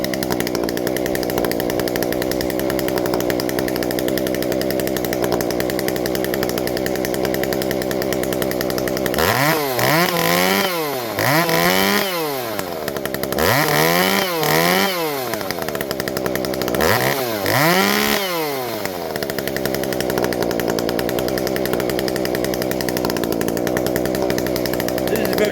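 A ported Shindaiwa 390sx chainsaw running close and loud, idling steadily, then revved hard three times in rising and falling bursts before dropping back to a rough idle.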